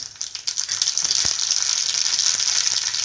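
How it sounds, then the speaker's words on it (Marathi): A spoonful of mustard seeds sizzles and crackles in hot oil in a small tadka pan, a constant close frying hiss with scattered sharp pops. "आपलं तेल गरम झालेलं आहे आपण त्यामध्ये आहे ना एक चमचा मोहरी टाकू आपण"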